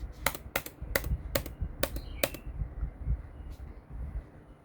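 Six crisp, close clicks of keys on a computer keyboard land in quick succession, like a short burst of typing or a shortcut press, followed by faint background noise with no speech.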